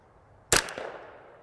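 A single sharp shot from a KIDD 10/22 rifle cracks out at close range during an ammo test, a crisp report followed by a short fading echo, with no voices.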